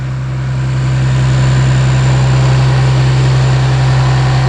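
A Cummins ISC 8.3 liter turbo diesel in a 2006 Blue Bird All American school bus idles steadily and loudly, a constant low rumble with a strong hum and no speech.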